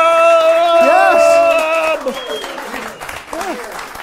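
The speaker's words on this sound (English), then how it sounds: "Everybody give Sophia a big round of applause" An audience at a live holiday comedy show applauds under loud, sustained voices that cheer and exclaim over the clapping, which continues more loosely once the shouting drops away.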